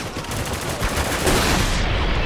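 Heavy sustained gunfire in the video game Spec Ops: The Line, a loud, dense barrage of rapid shots with no pauses, close and filling the whole stretch.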